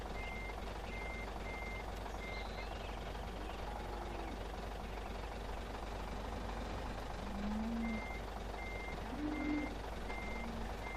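Farm vehicle reversing in Landwirtschafts-Simulator 2013, its backup alarm beeping in a steady repeated rhythm over a constant low engine drone, with brief air-brake-like hisses near the end.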